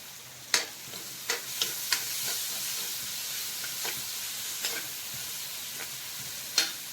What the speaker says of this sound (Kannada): ಚೆನ್ನ ಮಾಡಿ ಫ್ರೈ ಆಯ್ತಲ್ಲ ಈಗ ಟೊಮೆಟೊ ಹಾಕ್ತೇನೆ ಎರಡು ಟೊಮೆಟೊ